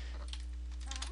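Light keystrokes on a computer keyboard type a layer group name, a few soft close clicks over a low steady hum.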